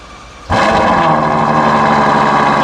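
A V12 engine, heard from behind the car, fires up abruptly after a quiet moment and settles into a loud, steady rumble with a rich, buzzy tone. Nobody speaks.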